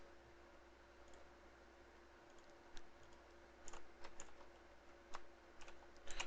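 Quiet, close keystrokes on a computer keyboard, irregular taps that come in short bursts and grow busier toward the end, with no talking.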